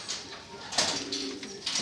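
Madrasi pigeons coo in a loft, a few low, throbbing calls rising over steady background hiss and faint rustling, fairly close.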